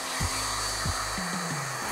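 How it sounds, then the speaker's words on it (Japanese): A hair dryer blows steadily as it dries hair into a center-part style, a loud continuous whoosh with brief shifts in pitch as the airflow moves around the head. "サイドはブラッシングするように指を通しながら後ろに流すようにドライしてください。"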